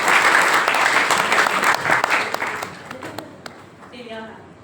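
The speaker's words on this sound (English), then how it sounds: "Give her a round of applause." An audience at a bhakti retreat in Amsterdam breaks into a round of applause for a volunteer, a dense wash of many hands clapping that gradually thins out and fades as a voice speaks.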